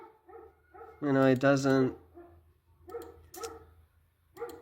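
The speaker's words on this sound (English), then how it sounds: "this guy's dog's going off like a smoke alarm in the background." A dog barks in a burst of several loud, harmonic barks partway through, set behind someone talking over the sounds, with fainter yelps trailing off afterward.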